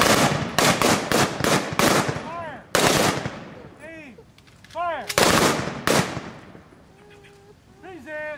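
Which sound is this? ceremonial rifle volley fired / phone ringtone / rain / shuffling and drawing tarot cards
ceremonial rifle volley fired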